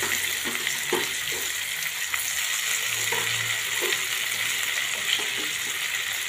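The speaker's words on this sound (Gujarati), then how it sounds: "સમારેલા બટાકા નાખું છું બાફેલા." Boiled chopped potatoes frying in hot oil with red chillies, a steady close sizzle throughout with a few soft stirring clicks, no talk.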